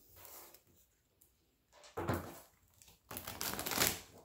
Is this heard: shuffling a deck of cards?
yes